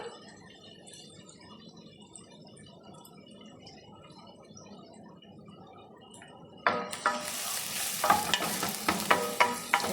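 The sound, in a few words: spices frying in a pan for fish curry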